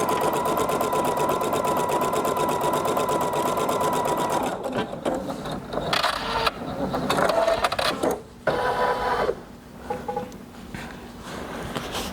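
A Sapphire 85 embroidery sewing machine stitches a single line on a Valentine's mug rug, a fast steady mechanical whirring hum at close range for several seconds, then stopping and giving way to softer handling clatter and brief bursts.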